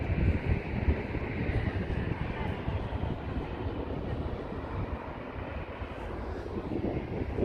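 Jet airplanes taking off from two SFO runways at once, heard as a steady, loud, broadband roar that holds throughout with no voices.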